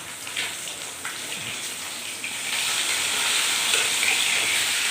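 Katla fish frying in a pan gives a continuous close sizzle with a soft, hissy texture that swells louder partway through and holds steady to the end.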